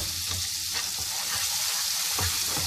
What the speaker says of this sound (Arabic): غادي نضيف الزبده. ها هي غادي نحركها باش تذوب.